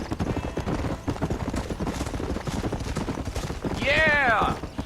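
Horse hooves galloping in Red Dead Redemption, a steady drumming rhythm under ongoing in-game sound, with a whinny rising near the end.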